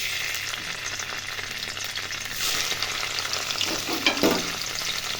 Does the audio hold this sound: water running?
no